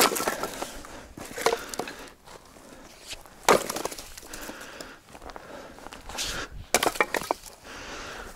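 Short firewood for a small wood stove is split by axe in a series of sharp wooden cracks and pops, spaced a second or two apart, with light shuffling and wood clatter between strikes.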